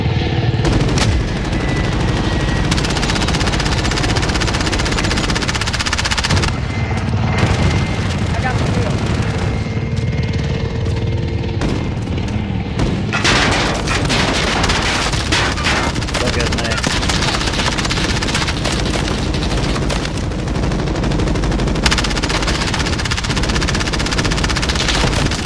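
Loud .50 caliber gunfire in a video game, a dense, continuous rattle of shots with heavy bursts that barely let up, over constant game noise and a voice talking in the background.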